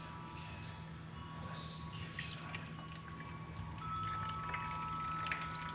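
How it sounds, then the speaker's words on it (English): Liquid poured slowly into an Ecoviva slushie machine makes a faint, irregular trickle and soft drips over a low steady hum. "so you gotta kind of pour it in slowly."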